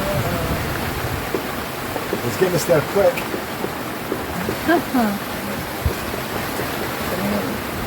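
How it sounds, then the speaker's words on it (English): Rain falling on a sailboat at sea, a steady soft patter under a brief spoken line and some scattered knocks and creaks. "It's raining again."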